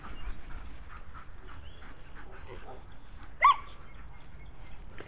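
Young puppies around fourteen weeks old playing together, with soft panting, scuffling and an occasional yip close by under low background noise.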